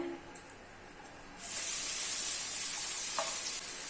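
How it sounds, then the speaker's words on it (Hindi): Finely chopped onions drop into hot oil with whole spices for a mutton keema fry, setting off a sudden bright hissing sizzle that then holds steady and loud up close. "तो ऑनियन को अभी मीडियम फ्लेम पे गोल्डन ब्राउन होने तक फ्राई कर लेना है"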